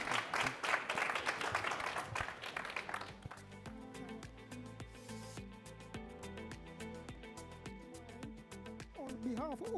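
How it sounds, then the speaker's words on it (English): Audience applause closes a climate policy panel, a dense wash of clapping for about three seconds before music takes over and plays on to the end. "Give them a hand of applause, and see you next year."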